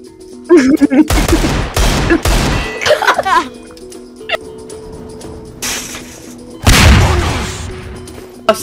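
Gunfire in the video game Garry's Mod, bursts of rapid loud shots with a heavy final volley, while excited voices and odd game creature sounds break in between.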